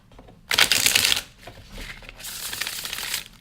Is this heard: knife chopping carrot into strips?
no